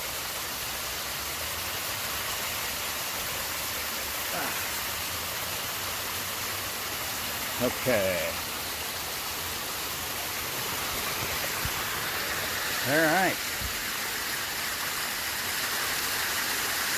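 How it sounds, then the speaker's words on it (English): A waterfall in Jefferson County on a first hike of 2021, a steady close roar of falling water throughout; a voice briefly speaks over it a few times. "right below this waterfall"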